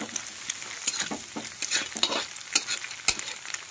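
Eggs and sliced onions frying in a pan for noodles, with a steady close sizzle broken by repeated quick spatula scrapes and clicks against the pan, no voices.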